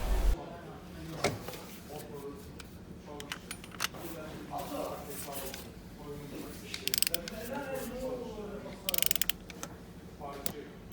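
A socket ratchet with a swivel socket tightens the oil filter cap on a Fiat Doblo with 250,000 km, giving small repeated clicks and mechanical ticks beneath a man's speech.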